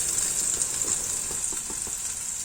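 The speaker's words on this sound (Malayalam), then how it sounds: "താളിച്ചത് നമുക്ക് കറിയുടെ മുകളിലൂടെ ഒഴിച്ചു കൊടുക്കാം." Hot curry-leaf tempering poured over a raw plantain curry sizzles steadily and loudly at close range, a continuous hiss with faint crackles and no voices.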